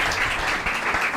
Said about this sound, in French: Est-ce qu'on peut applaudir pour monsieur Bin Jacob?